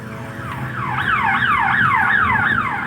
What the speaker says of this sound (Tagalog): Nag-alarm yung bangko.